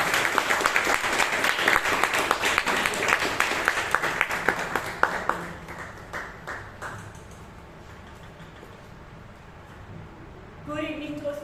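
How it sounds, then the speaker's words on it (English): Applause at a Toastmasters meeting in Bangalore, a moderate round of clapping from a small audience that fades over several seconds before a speaker's voice starts. "Please have a round of applause"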